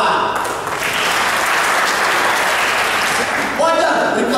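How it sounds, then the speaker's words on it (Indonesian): Audience applause at a police stand-up comedy show, a broad wash of clapping that swells steadily and stays loud, with a voice cutting in near the end. "Tepuk tangan untuk polwan."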